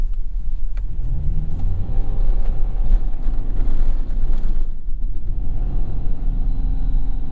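2024 Toyota Tacoma TRD Off-Road driving up into sand, a loud low engine rumble and drone from inside the cab, steady with some rising strain, without talk.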